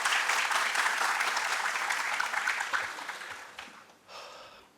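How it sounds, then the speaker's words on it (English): A loud burst of audience applause fills an auditorium at a hazmat seminar, dense and sustained before tapering off over the last seconds, with a brief faint swell at the end. "I expect loud applause for everyone present in this auditorium."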